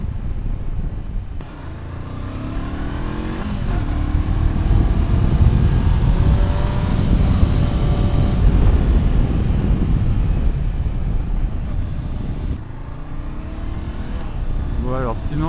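A Honda CB 500 X motorcycle engine hums and rises in pitch as it rides along, loud and close, with wind noise throughout and a brief high whine near the end.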